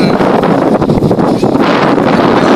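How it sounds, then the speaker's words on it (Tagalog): Strong wind roaring and buffeting the microphone beside a rice field, loud and continuous with gusty surges, no voices. "Dito naman galing yung malakas na hangin at tignan nyo parang signal number 4 yung lakas"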